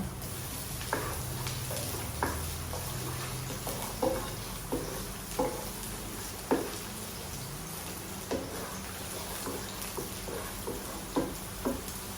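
Sliced onion and ginger sauté in a pan with a soft steady sizzle, broken by regular clicks and taps of a spoon stirring, close by with a low hum underneath and no talking.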